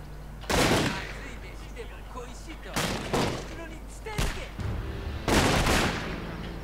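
Musket volleys from a Shogun 2: Total War battle, several loud crackling bursts of massed gunfire spaced a second or two apart, with faint background noise between them.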